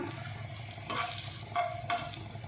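Cumin seeds and dried red chilies crackle in hot oil as a soft tempering, with a faint low sizzle and a few brief bursts of crackle and spoon scrapes, quiet and with no voices.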